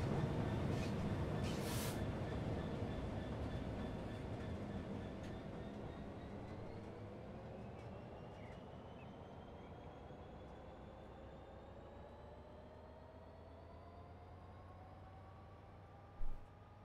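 A rail-cleaning train runs in Train Sim World 3 on the Southeastern Highspeed line, a steady loud rumble of wheels and engine drone with rising tones. It fades slowly over time, with a brief knock near the end.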